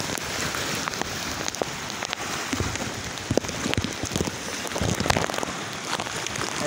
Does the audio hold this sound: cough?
no